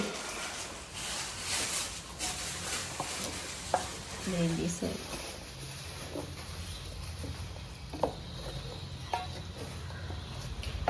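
Tomatoes cook in a pan with a soft, steady sizzle, broken by occasional scrapes and knocks of stirring, heard close and fairly quiet without speech.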